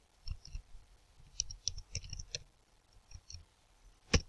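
Computer keys being pressed, a scattering of light, quiet clicks followed by one sharper keystroke at the end, close and soft in a quiet room.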